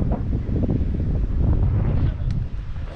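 Strong wind buffets the microphone in a continuous loud rumble, gusting unevenly for a few seconds with no voices.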